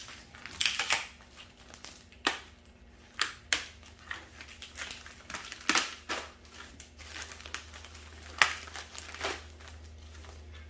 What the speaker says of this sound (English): As soon as we get it open and unwrapped,